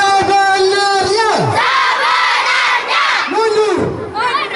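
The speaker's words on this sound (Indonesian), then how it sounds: "Teriakan bersama-sama dan keras seperti yang tadi." A group of children at a traditional Indonesian children's game in Bulak, Surabaya, shouts together loudly in long, drawn-out cries that rise and fall. The crowd is close and keeps shouting for several seconds, and several voices overlap.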